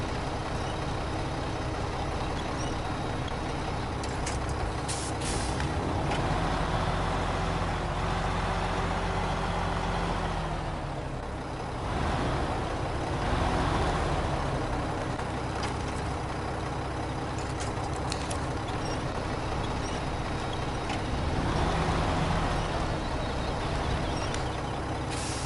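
A heavy truck in the SnowRunner video game repositions a generator trailer, its engine droning steadily and loudly throughout with rising and falling revs and faint hissing, no voices.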